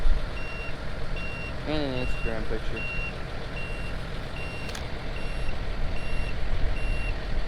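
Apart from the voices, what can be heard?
silage chopper warning beeps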